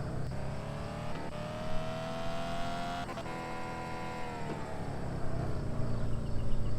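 A Tofaş car engine in a video game revs and hums continuously for several seconds, its pitch rising and falling, with a few sharp cracks like backfires partway through.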